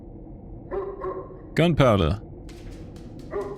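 A dog named Gunpowder gives a short burst of loud, close barks, with a person's voice calling out just before and after.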